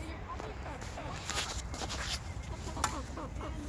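Chickens cluck steadily nearby while people chat in the background, with a few footsteps mixed in.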